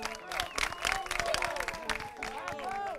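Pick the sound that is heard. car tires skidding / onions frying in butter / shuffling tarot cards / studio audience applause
studio audience applause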